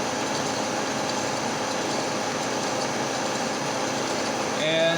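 A high-speed steel cutter turning at 80 RPM on a machine makes a steady mechanical hum and whir, with a brief rising tone near the end and speech partly present.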